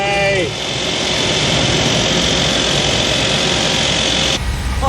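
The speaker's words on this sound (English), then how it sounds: "I'm like oscillating the throttle." A Ford F150 engine roars hard and close while the throttle is worked during an abuse test, a dense, sustained high-revving drone that barely dips before cutting off near the end.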